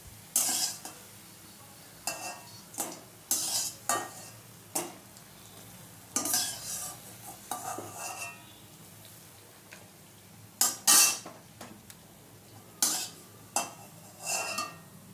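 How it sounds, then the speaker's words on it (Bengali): Fried gima greens fritters are lifted from a pan into a bowl, heard as a run of separate clinks and scrapes of utensils over a faint background sizzle, with short gaps between the bursts. "এবার একটা পাত্রে আমি তুলে রেখে দিচ্ছি"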